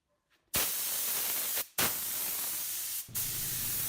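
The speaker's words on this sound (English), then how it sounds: "I'm going to spray lacquer on top of everything" Lacquer finish sprayed from a spray gun over a taped-up miter station woodworking project: a loud, steady hiss in long sustained bursts, broken by two brief pauses.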